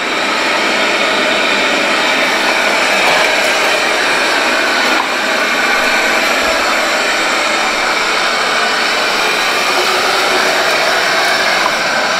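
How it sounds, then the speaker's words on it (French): A Lefant N3 robot vacuum cleaner running in turbo mode gives a loud, steady, broadband whirring hiss that holds unbroken from start to finish, close by with no voices. "je l'ai mis en mode turbo"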